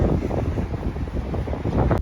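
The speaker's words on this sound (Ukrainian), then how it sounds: "вітер сильний, дуже ну, такий з морозом, дуже холодно" Strong, frosty winter wind buffets the microphone in a continuous low roar, gusting steadily throughout with a brief sharp noise near the end.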